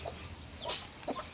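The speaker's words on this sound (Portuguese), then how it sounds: "Galezinha acabou de sair pra comer. Chocando os ovinhos." A brooding hen sitting on her eggs gives a few soft, faint clucks in quick succession over low background noise.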